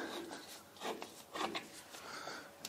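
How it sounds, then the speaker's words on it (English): A deburring tool scraping around the end of a freshly drilled hole during a spur gear differential build, heard as close, soft rasping strokes that repeat in short irregular bursts. "Deburr the end of the hole."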